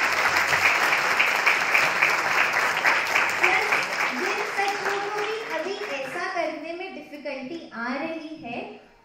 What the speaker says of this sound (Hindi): तो उन सज्जनों के लिए पहले तो एक बार जोरदार तालियां हो जाए